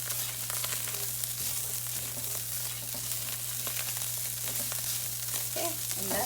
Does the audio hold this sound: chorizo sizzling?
yes